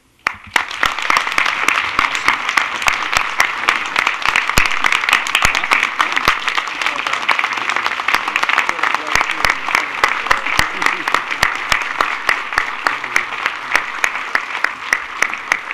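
An audience at the 2018 Somerville, Massachusetts inaugural ceremonies applauds the newly elected Board of Aldermen and school committee, steady crowd clapping sustained for about fifteen seconds with individual claps standing out.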